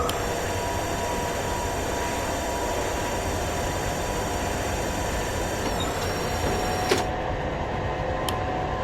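Simulated airliner landing in Real Flight Simulator, a continuous steady engine and airflow hiss with a faint tone shift near the end, quiet and unbroken, without talk.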